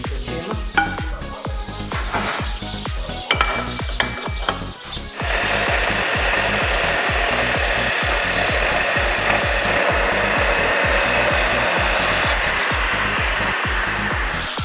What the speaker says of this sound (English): And now we'll cut the connection between half axle and torsion bar.